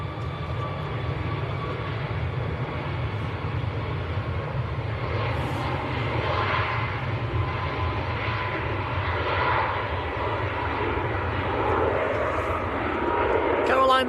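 A TUI airliner bound for Sharm el Sheikh takes off from Manchester Airport, a steady broad jet roar holding for about fourteen seconds and swelling slightly toward the end, with voices faintly beneath it.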